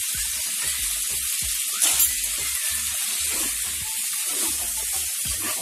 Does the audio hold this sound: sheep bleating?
no